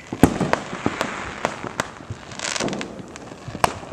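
Independence Day fireworks go off above the trees, with scattered sharp pops and crackling bursts at varying distances, some loud and near, others fainter and farther off.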